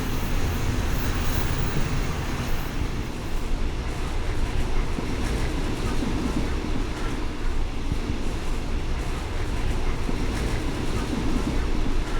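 Thai passenger train 434 running from Chatturat toward Kaeng Khoi near the Khao Bang Yae tunnel, a loud, unbroken rumble and rattle of the carriage heard from on board.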